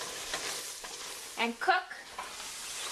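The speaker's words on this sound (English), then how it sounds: "You're going to stir this up really good" A spoon stirring flour and fat into a roux in a pot for chicken stew, soft scraping and faint sizzling with a couple of louder clinks midway, heard close under a few spoken words.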